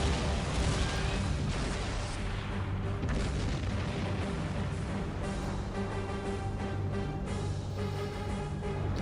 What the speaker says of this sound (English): One of Voyager's unlimited supply of 38 photon torpedoes.